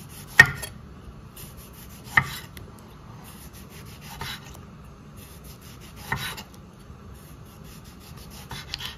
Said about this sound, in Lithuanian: Dabar supjausysime pomidorą.